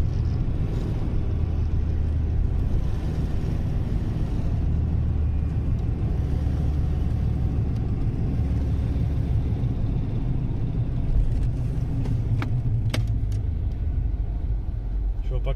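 A car drives across a newly opened road overpass above railway tracks near the GRES settlement in Inkerman. Steady low tire rumble and engine drone heard from inside the car carry throughout, with a few sharp clicks near the end.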